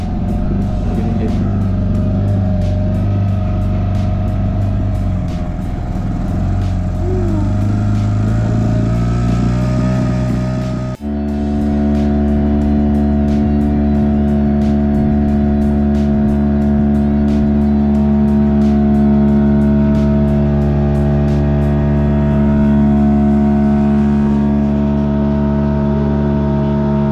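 A boat engine on a test-drive trip runs loud and steady, shifting to a higher, smoother drone partway through and then holding it for the rest of the clip.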